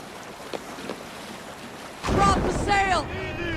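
A sailing ship out at sea in Assassin's Creed Valhalla, with a faint wind hiss that surges into a loud rush of wind and water after two seconds. A short voice-like call rises over the sea noise.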